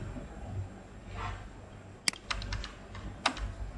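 Keys on a computer keyboard tapped while jQuery code is written, a few sharp isolated clicks in a quiet room rather than steady fast typing, fairly close.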